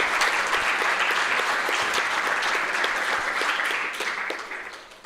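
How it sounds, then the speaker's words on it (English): An audience at a live spiritual class applauds with dense, steady clapping from many hands that holds for several seconds and then tapers off toward the end. "Let us give another round of applause for Mataji."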